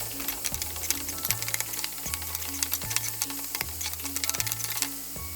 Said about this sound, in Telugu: పోపు పెట్టేసుకొని మనం ఏవైతే కట్ చేసుకున్నామో ఆనియన్, టమాటా కూడా వేయించేసుకుందాం.